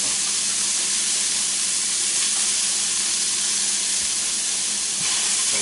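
A half-pound patty of 90/10 ground beef lands on a hot griddle next to bacon and sizzles in a loud, dense, continuous hiss that holds steady throughout, close up and with no talking.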